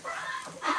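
Ducks in a coop on a cold winter day give a short burst of soft clucking, quacking calls, close and moderately loud, rising again toward the end.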